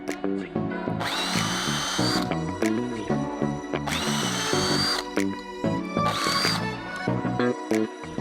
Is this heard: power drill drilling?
yes